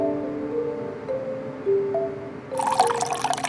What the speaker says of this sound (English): After hot water is added